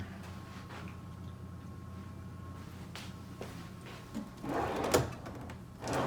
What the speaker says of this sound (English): Little drawer in the desk.